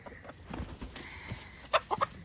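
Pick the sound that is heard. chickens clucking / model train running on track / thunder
chickens clucking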